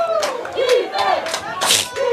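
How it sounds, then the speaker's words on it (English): Crowd at a college football game between BRS and Benedictine roaring and cheering in repeated loud swells, with a commentator talking over the noise. "Crowd is going right now."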